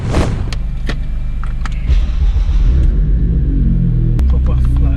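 A tuned Ford Fiesta ST EcoBoost with a Stage 1 Revo remap, rated 230 bhp, pulls away with a low engine rumble that builds beneath a voice talking close by, and a short whir comes in at the start.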